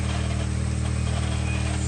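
A Mitsubishi Eclipse 2G engine running steadily after its belt has been re-tensioned, a continuous low idling hum with a faint higher whine above it, close and unbroken, with no talking.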